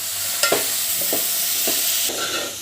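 Vegetables and red chilli powder sautéed in a pan for Maharashtrian masala rice: steady close sizzle with a few spoon scrapes and stirs against the pan, no voices.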